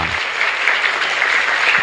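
A congregation at a chapel Mass applauds in a dense, steady burst of clapping that stays loud and even for about two seconds.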